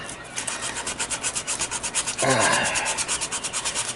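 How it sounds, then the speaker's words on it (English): Steady, rhythmic back-and-forth sanding strokes rasp against a toy blaster up close, with a brief louder scrape partway through. "I'm going to start sanding galore."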